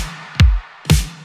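Drum fill opening an 80s synthpop beat: two heavy, reverb-soaked drum hits about half a second apart, each a loud booming thump with a bright crack and a short decaying tail, heard alone.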